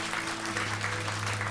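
Church congregation at a Sunday worship service applauding a pastor and his wife on their 50th wedding anniversary, a steady even wash of clapping over a low hum, with no break for its short length.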